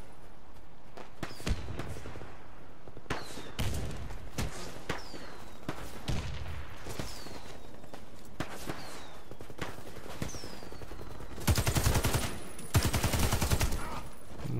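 Stoner LMG light machine gun fire in the console shooter Warface, loud repeated bursts of rapid shots with a denser, sustained burst near the end, and no talking.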